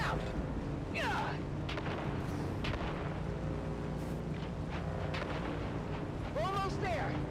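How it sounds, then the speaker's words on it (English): Grenade explosions in the video game Dune: Awakening crack and boom through a busy, dense battle mix, with one sharp burst near the start and another near the end, set over a steady low rumble with voices mixed in. "On three, we grenade and move. 3, 2, grenades out!"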